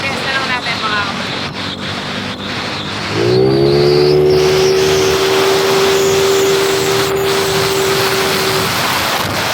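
A motorcycle with a ported cylinder head being test ridden on a racetrack, its engine revving up into a steady high droning tone that holds for several seconds amid strong wind rush.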